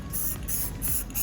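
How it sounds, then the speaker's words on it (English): A spray bottle mists isopropyl alcohol over wet epoxy on a flag project, giving several quick, soft hissing bursts in a rough rhythm over low room noise. "then spray isopropyl on it"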